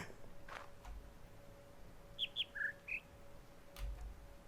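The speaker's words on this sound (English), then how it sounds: "The bird." Bird chirps in the video game The Witness: four short whistled calls in a high-low, high-low pattern, fairly clear against a faint steady ambient hum, with no talking.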